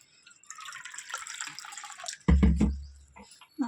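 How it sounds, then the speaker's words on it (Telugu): Water poured into a bowl of curd and poha flour batter, a soft trickling splash building into a brief louder gurgling pour, close and alone. "ఒక కప్పు పెరుగు వాటర్ పోసేసుకొని కలిపేసుకుందాము"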